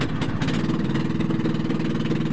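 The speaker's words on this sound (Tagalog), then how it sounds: "Honda ang makina dito, Honda" A Honda 6.5 HP engine on a newly built boat runs steadily with a fast, even putter, close and loud, with no talk over it.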